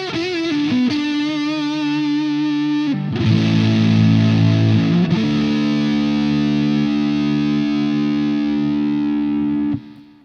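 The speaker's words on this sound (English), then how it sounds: "Hard clipping distortion." Electric guitar driven through a Boss OS-2 set for hard-clipping distortion, loud sustained chords with a gritty, saturated edge, changing chord twice before the notes cut off abruptly near the end.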